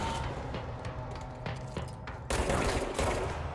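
Rapid automatic gunfire bursts in the video game Control, dense rattling volleys that grow louder and fuller in the final second, with no talk.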